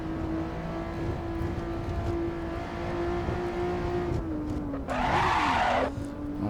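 Honda NSX engine in Assetto Corsa holding a high, steady rev with a strong tonal whine, dipping briefly near the end while a short burst of tire squeal or skid noise cuts in.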